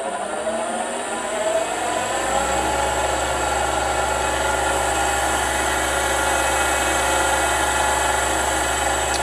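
An SK 330 grinder machine starts up and runs steadily near at about 1500 rpm, a loud continuous motor hum with a low drone settling in after the first two seconds, with no coolant flowing.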